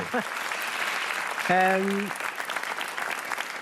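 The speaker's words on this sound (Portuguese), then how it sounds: "um aplauso também para o João Francisco" Studio audience on a Portuguese television game show breaks into brief applause welcoming a guest, with a tonal musical sting rising over the clapping midway.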